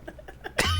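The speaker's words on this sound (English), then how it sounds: "Give me 1 second. I have a cough." A person with a cold gives one sharp, loud cough near the end, after a brief stretch of faint, soft sounds.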